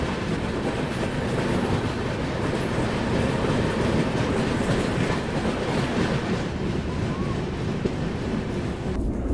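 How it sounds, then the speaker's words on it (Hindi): A Kolkata–Amritsar express passenger train runs steadily along the rails, with a loud, continuous rumble and a rhythmic clatter of wheels over the track that lasts the whole time. "और ये है कोलकाता अमृतसर, जिसकी रेक शेयरिंग होती है अनन्या एक्सप्रेस के साथ।"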